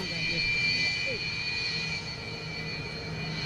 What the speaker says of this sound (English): The Ukrainian Su-27.